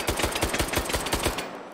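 Rapid automatic gunfire from a high-capacity, high-caliber gun in the VR game Hot Dogs, Horseshoes & Hand Grenades: about a dozen loud, evenly spaced sharp shots in a quick burst, then stopping abruptly.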